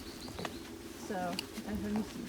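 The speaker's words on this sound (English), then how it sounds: "You can hear the birds singing." Birds call in a shaded forest, with a few short coos and chirps coming through faintly behind a person talking.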